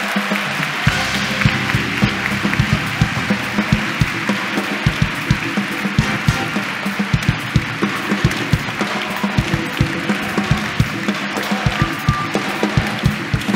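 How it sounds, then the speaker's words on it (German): A large conference audience at an awards event gives sustained, loud applause welcoming a guest, a steady wash of many clapping hands with a few whoops carrying through the whole stretch. "Und bitte begrüßt einmal mit einem riesigen Applaus Mozzi Mabuse."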